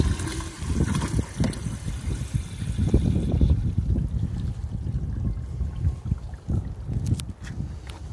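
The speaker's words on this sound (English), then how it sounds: "So I'm going to add water." Water pours and trickles into a Jandy swimming pool pump to prime it during a pool opening, a steady close splashing flow with low gurgling throughout, no talk.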